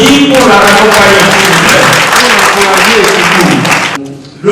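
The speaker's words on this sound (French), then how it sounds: "On l'applaudit pour la raccompagner" Loud, sustained applause from an audience fills the room, steady and dense, then drops off abruptly near the end.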